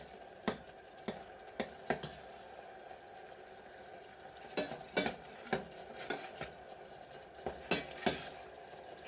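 Coconut cream being stirred as it heats in a wide frying pan, a spoon scraping and tapping the pan in irregular bursts over a soft, steady sizzle; close and fairly quiet, with no talk.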